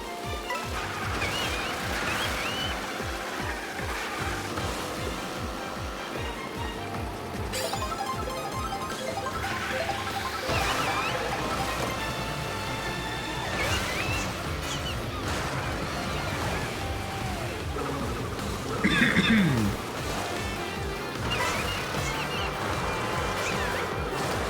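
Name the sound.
stormy waves and rain on a Mario Kart World video game track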